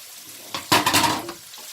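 Chopped onion dropped into a hot pan for a Punjabi-style mixed vegetable dish, a sudden burst of sizzling with a brief stir, fading after about a second.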